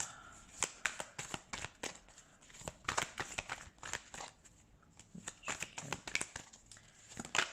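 Tarot cards are shuffled and laid out by hand, making quick, crisp riffling bursts and soft slaps that come in irregular flurries, close and fairly quiet, with no talk.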